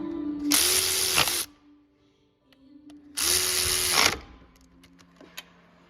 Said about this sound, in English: we will install the bolts that hold the CV axle to the stub shaft